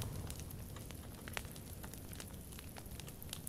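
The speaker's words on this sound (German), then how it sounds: "Dann können wir uns hier am Feuer auch wärmen." Campfire crackles steadily in the survival game The Forest, a dense low rumble of fire broken by scattered sharp pops and snaps, quiet and continuous with no one talking.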